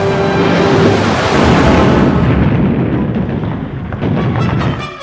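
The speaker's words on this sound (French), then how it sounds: "ainsi que par un violent tir d'artillerie" Heavy artillery fire in a battle at Kursk, dense rolling booms and blasts merging into one loud, continuous roar that fades slightly toward the end.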